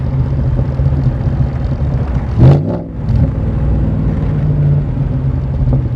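A Backdraft Cobra with a Coyote V8 cruises along, a steady low engine rumble with one brief louder swell partway through and no talking.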